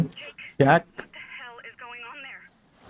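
A phone rings inside the jungle survival game Green Hell, a steady electronic tone pattern with repeating warbling pulses that runs for about two seconds after a short burst of speech, with a voice talking over the start.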